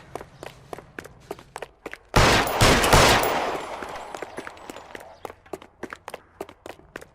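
A single loud gunshot blast from an L.A. Noire shootout rings out and decays slowly, framed by a steady run of quick, close footsteps before and after it.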